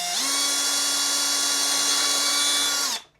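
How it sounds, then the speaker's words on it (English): A power drill bores a hole through the side of a plastic dinosaur climbing toy's case, one steady high whine lasting about three seconds before cutting off, close and loud with no talk. "drill a hole right through the side of the case"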